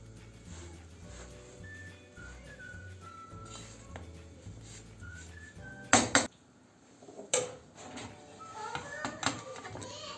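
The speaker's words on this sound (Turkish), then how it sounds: "koyu yeşil olduğunda arka tarafını çeviriyorum" A spinach crepe is flipped in a pan, with a burst of metallic clatter and scraping mid-way and a few lighter clinks after, over a quiet kitchen background with some faint voice.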